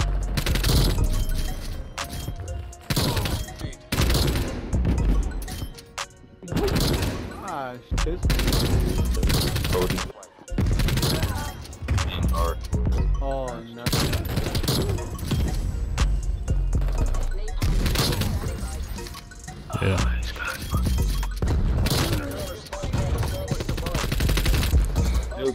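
Dense gunfire in the video game Black Ops Cold War, with rapid automatic bursts and shots almost nonstop at close range, loud, and voices talking over it at times.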